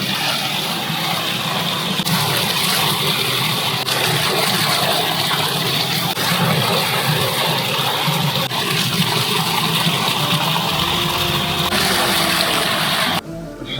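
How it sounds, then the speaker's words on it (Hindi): Water runs loud and steady from a tap for ablution before prayer in Madina, a continuous gushing rush lasting over ten seconds before it cuts off. "तो अब हम लोग जो है वो इंशाअल्लाह ताला इस पानी से वज़ू करेंगे"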